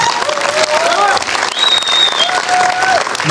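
A crowd at the Herşeye Rağmen film premiere gala claps steadily and fairly loudly, with thin whistle-like tones drifting over the applause.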